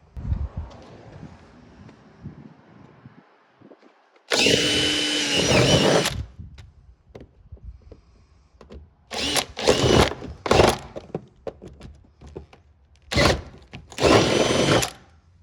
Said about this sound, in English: So what I've done is I've drilled the hole out to 9mm